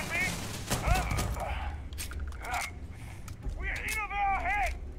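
Sci-fi firefight in the video game Starfield, with scattered gunshots cracking through a busy combat soundscape while someone talks excitedly over the action.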